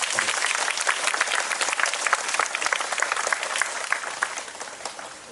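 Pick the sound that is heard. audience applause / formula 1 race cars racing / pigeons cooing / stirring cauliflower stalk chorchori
audience applause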